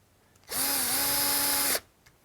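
A power drill drives a screw into a Schlage Encode Plus deadbolt lock in one close, loud burst lasting just over a second, its motor whine shifting slightly in pitch as it runs, with quiet room tone before and after.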